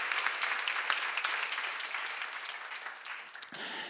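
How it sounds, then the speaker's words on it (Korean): A church seminar audience claps hard, dense crowd applause with sharp individual claps standing out, strongest at the start and easing slightly toward the end. "박수 세게 쳐봐."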